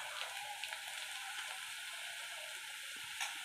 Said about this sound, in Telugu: ఇప్పుడు ఇలా ఫ్రై చేసుకోవాలి